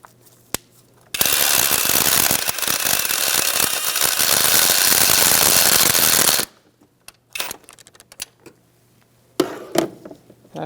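A nut is tightened on the alternator wire of a 2005–2010 Chrysler 300 with a 5.7L V8, giving a close, dense burst of rapid ratcheting clicks for about five seconds, followed by a few sparse metallic clinks.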